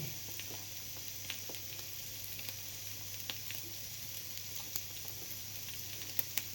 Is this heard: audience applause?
no